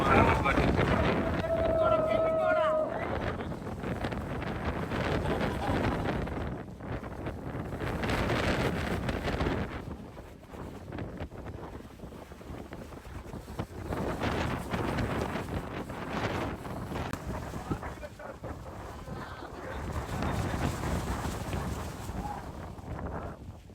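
Strong, gusty monsoon wind with heavy rain buffets the microphone throughout at Kakkadampoyil, a loud roaring rumble that swells and eases, with people talking underneath.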